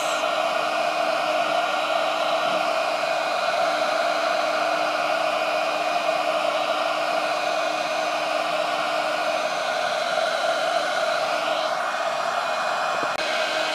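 A heat gun blows steadily while it sets embossing powder on paper, giving a constant, close whooshing hum with no breaks for the whole stretch. No one talks.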